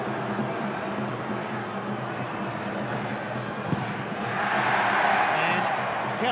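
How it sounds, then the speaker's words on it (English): Football crowd at an A-League match between Auckland FC and Adelaide United jeering in disapproval, a broad stadium roar that swells louder toward the end over a constant background din. "Crowd don't like it."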